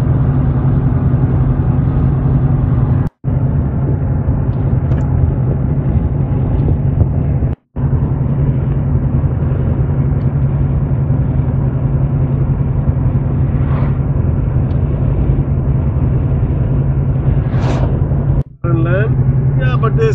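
A Nissan Xterra cruising at 100 on a desert road among the dunes at Al Qua'a, with a steady low engine and road drone inside the cabin and brief cuts in the sound.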